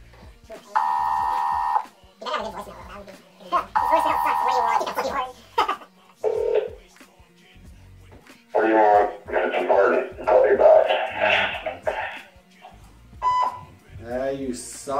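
A phone call's ringing tone repeats in regular bursts, alternating with someone talking over it between rings, loud and close.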